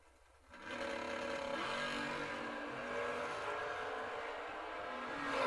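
At a drag race in Missouri, a wheel-standing Camaro door car launches against a dragster, the engines rising from a low idle into a loud, sustained high-pitched roar that holds to the end.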